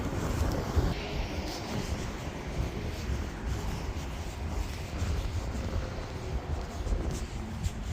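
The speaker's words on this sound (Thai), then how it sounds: "ลมเย็นจ้ะ" Cold wind blows steadily across open German countryside, a loud, rough, continuous rumble buffeting the microphone, with no voices.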